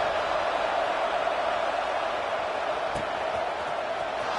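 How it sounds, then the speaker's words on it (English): Crowd in a football stadium during an Arizona versus Oklahoma game keeps up a steady, broad roar of buzzing noise after a score, with a single brief thump near the end. "this crowd is buzzing after that last score"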